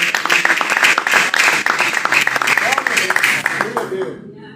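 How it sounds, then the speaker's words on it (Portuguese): A church congregation at an evening service claps loudly and steadily, with voices calling out over the applause before it dies away at the end. "as palmas no nome do Senhor."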